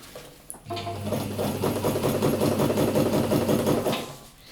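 A sewing machine stitches a fabric stuff sack, a loud steady mechanical whir with a rapid needle rhythm that starts abruptly and runs for several seconds before winding down, heard alone up close.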